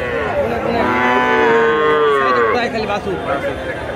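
Cattle and calves low at a busy village livestock market in Bogura, one long drawn-out moo rising and falling close by over a murmur of crowd noise.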